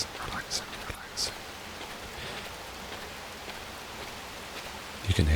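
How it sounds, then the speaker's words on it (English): Steady rain pattering on leaves on a rainy night in Chicago in the video game Watch Dogs, a continuous soft hiss with brief louder splashes, and a short low sound near the end. "You can hear the rain falling on the leaves"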